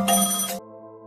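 A telephone ringtone sounds loud and close in one short electronic burst before cutting off, leaving a faint tonal hum as the call goes unanswered.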